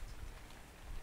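Steady rain in ARK: Survival Evolved, a soft continuous hiss with low rumbling underneath, filling the whole moment without pauses.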